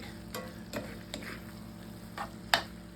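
Over two pounds of ground beef cooking in a pan, with a steady low sizzle of frying meat and a few brief stirring scrapes spaced through the clip.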